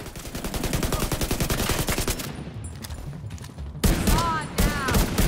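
Rapid automatic gunfire in the video game The Division 2, dense bursts of loud rattling shots that break off, then resume with heavy single blasts, with voices shouting in the game.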